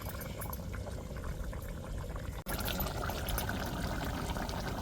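A pot of soybean curry bubbles and simmers steadily at a low level, a soft continuous boiling hiss with a brief break midway.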